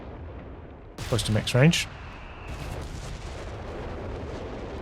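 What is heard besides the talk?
artillery firing in Company of Heroes 3 video game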